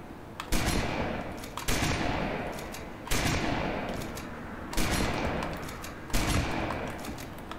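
Five heavy bursts of rapid automatic gunfire from the video game Halo MCC, each loud and sustained for over a second with a sharp onset, separated by brief gaps, no talking.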